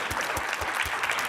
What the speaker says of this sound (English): if you want to applaud right now for this guy